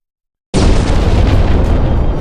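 After a moment of silence, a massive anime magic explosion erupts and roars on as a sustained, loud rumbling blast.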